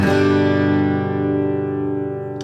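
A single guitar chord rings out cleanly and sustains, slowly fading, with a faint click near the end.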